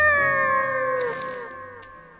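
A cat meows in a long, drawn-out, wavering cry that slowly fades, heard close and alone, during a video game alpha test.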